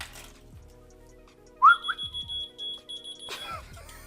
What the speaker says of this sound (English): when you whistle, it should start beeping